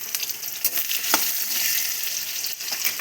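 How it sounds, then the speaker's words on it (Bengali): Brinjal pieces fry in oil with salt, giving a bright, steady sizzle with small popping crackles and a few sharp stirring clicks, close and fairly loud. "বেগুনটা একটু লাল লাল করে ভেজে নেব।"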